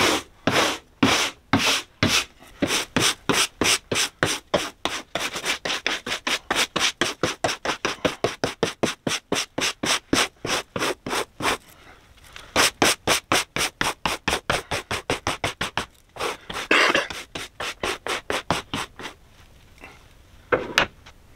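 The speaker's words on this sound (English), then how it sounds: "So I'm just going to use a stiff nylon brush and brush it off." A stiff nylon brush scrubs old glue off the headliner of an Audi removable hard top, with rapid, even back-and-forth strokes repeating close up and without pause, and no voices.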